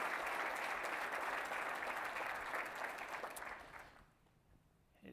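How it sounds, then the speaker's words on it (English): An audience at an association gathering gives a round of dense, sustained applause that stays steady, then tapers off and fades out near the end. "I think we owe Jeff a round of applause for 18 years serving our association"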